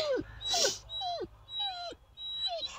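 A dog whimpers and whines in a run of about six high, falling cries near a porcupine's burrow outdoors, close and fairly clear over a low steady hum.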